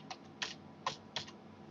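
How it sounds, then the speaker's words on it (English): Four crisp keystrokes on a computer keyboard, evenly spaced at close range with nothing else audible. "so I'm going to type in here"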